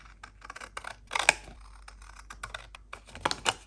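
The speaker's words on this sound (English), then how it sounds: "Now I'll just cut around them." Scissors snipping around bingo cards cut from cardstock for a Christmas junk journal, a string of short dry clicks and snips with two louder bursts near the middle and end, close up and quiet, with no talking.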